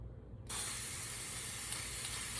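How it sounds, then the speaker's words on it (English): A spray paint can hisses on in a sudden burst after a brief quiet moment, then holds a steady, loud, close rushing spray while numbers are painted. "Let me picture where you can see me spray paint these numbers."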